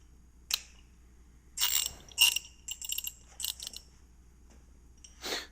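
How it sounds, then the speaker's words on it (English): A ratchet loosening the four bolts on the retainer cap of an International Farmall Super H tractor during restoration, giving several short bursts of metallic clicking separated by pauses. The clicking is close and crisp over a quiet background. "I'm going to take and I'll loosen the 4 bolts that keep this retainer cap on"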